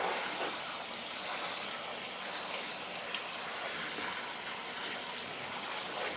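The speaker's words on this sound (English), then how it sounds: "rinsing the beans one more time here" Beans are rinsed under a running kitchen tap, a steady, soft hiss and gush of flowing water that continues evenly throughout.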